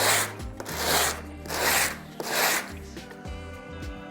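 A file rasps back and forth along the edge of a stamped metal cuff bracelet in four steady strokes, close and clear, with a faint ringing hum from the metal between passes.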